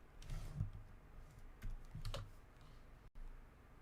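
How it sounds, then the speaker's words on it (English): Someone types on a computer keyboard in short bursts of soft clicks, quiet and close, with brief pauses between runs of keystrokes. "I can't believe I'm typing this into fucking Google."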